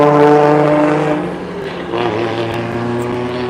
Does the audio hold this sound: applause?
no